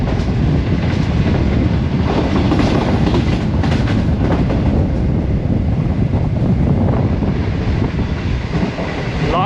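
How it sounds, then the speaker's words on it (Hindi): Green Line express running at speed, a loud continuous rumble of carriages with rhythmic clickety-clack from the wheels and some wind buffeting, steady and close throughout. "क्या ज़बरदस्त रफ्तार के साथ हड़प्पा से थ्रू पास किया है 5 अब ग्रीन लाइन ने"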